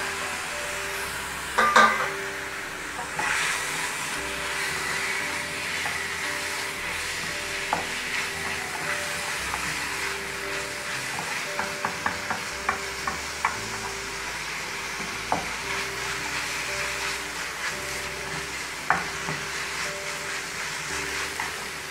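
Duck liver frying in a pan while being stirred, a constant sizzle with repeated scraping and clinking of a utensil, a sharper knock near the start, close and without voices.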